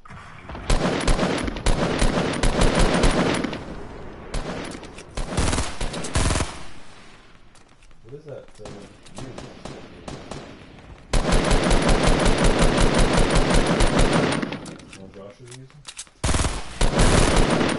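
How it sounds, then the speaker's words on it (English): Rapid automatic gunfire in a shooter video game, loud bursts early and again midway, with players talking over and between the shots. "Here, drop me some, Josh, so I can just keep on firing at him"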